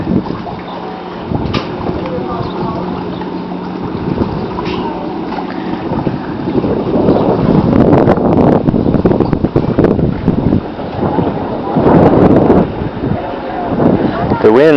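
Gusting wind buffets the microphone on a lake during trout fishing at Lake Taneycomo, Rockaway Beach, a steady rumbling roar that swells louder in the second half, with voices talking over it at times.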